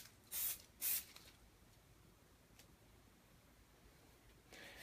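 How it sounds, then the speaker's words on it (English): Two quick hissing bursts of Auto Bright super penetrating lubricant spray onto freshly poured acrylic paint in a flip cup pour, close and crisp, then a faint rustle and a softer, longer spray toward the end. "Auto Bright super penetrating lubricant."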